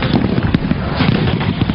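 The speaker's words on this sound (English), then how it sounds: "The fireworks went off," A quick barrage of firework bangs and crackles pops in rapid succession, dense and close, without pause.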